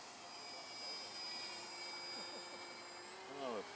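A small R/C Depron park flyer plane in an Eindecker style buzzes overhead at about one-third throttle, a thin steady electric whine with faint pitch shifts, and a voice is briefly heard near the end.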